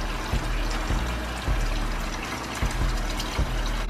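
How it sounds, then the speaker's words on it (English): Warm water running from a tap into a sink, a steady close rushing pour with low gurgling, continuous throughout with occasional soft knocks and no talking. "you just wanna add some hot water, like not hot water, but like some, you know, some like kind of warm water in the sink, fill it up kind of high"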